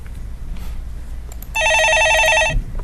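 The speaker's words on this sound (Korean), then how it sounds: "예, 전화 받아보겠습니다." A telephone rings with an incoming call during a Korean stock-market call-in show, one loud electronic trilling burst of about a second that cuts in over background room noise.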